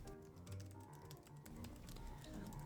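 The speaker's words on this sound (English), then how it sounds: "With this typing test, I can warm up my hands" Quick, uneven key clicks come from a computer keyboard during a typing test, a soft, close patter of taps with short pauses and no talk.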